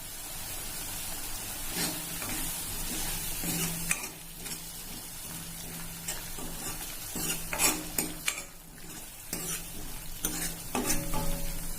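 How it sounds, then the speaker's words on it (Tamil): Tomato rasam simmering in a pot, a soft steady bubbling and hiss running under scattered sharper clinks and knocks of a spoon or utensil against the vessel, close and moderately loud throughout. "இது கொஞ்சம் கொதிக்கட்டும்."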